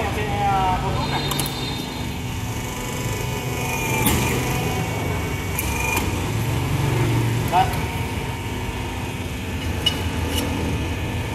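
A hydraulic crimping machine presses 40 mm square steel tube with 1.4 mm walls. Its engine-like motor drones loudly and steadily the whole time, with occasional clanks and a person talking over it.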